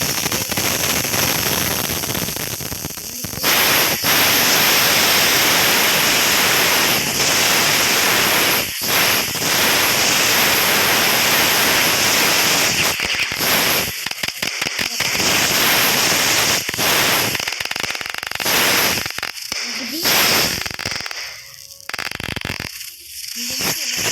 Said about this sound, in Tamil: இங்கே இன்னும் பட்டாசு இருக்குது